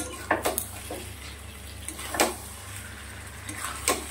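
Boiled eggs being stirred into an egg curry in a pan, a few sporadic scrapes and clinks of the utensil against the metal over a low steady hum, with no one talking.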